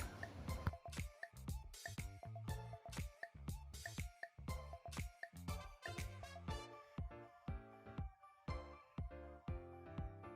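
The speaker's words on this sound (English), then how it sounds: "Then I will mix and stir it very well before adding other spices or ingredients." Thick blended pepper stew being stirred and mixed in a pot, giving a steady run of wet, squelchy plops and drips, quiet and close, repeating in an uneven rhythm throughout.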